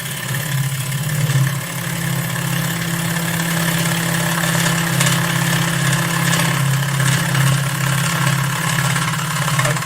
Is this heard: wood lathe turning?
yes